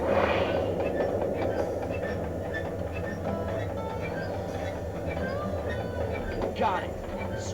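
A steady rumbling video-game train rolling along with a continuous mechanical roar and faint clatter, constant and fairly loud throughout.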